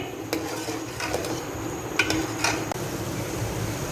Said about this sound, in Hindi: अब जो मेरे पास दही थी हम वो डाल के अच्छे से इसकी कर लेते हैं भुनाई तकरीबन 2 से 3 मिनट मीडियम फ्लेम पे।